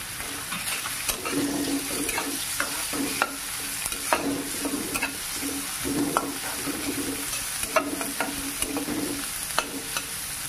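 Carrots are stir-fried for paneer fried rice: a soft sizzle runs under repeated rhythmic scraping and tapping of a spoon against the pan.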